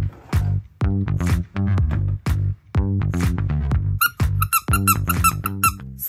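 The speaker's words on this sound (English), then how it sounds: "Jason wanted his giant robot mouse to squeak because he knows every pet loves a squeaker" The squeaker inside a giant robot mouse gives a rapid series of sharp, high squeaks, loud and close, bunched into quick bursts with short gaps and no talking.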